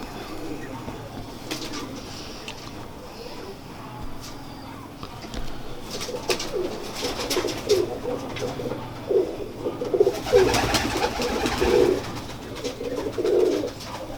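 Sialkoti pigeons coo in repeated low, throaty phrases, close and growing busier, with wing and handling rustles and a voice talking faintly at times.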